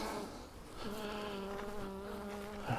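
Honeybees buzz in a hive during a mite treatment, a close, steady droning hum with a few louder passes of individual bees, quiet overall with no talk.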